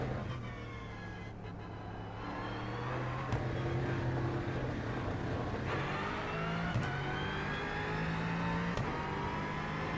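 A racing engine roars continuously, its pitch climbing and dropping through gear changes, loud and close with no voices.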